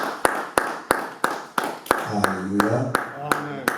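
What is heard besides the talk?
congregation clapping to acclaim the Lord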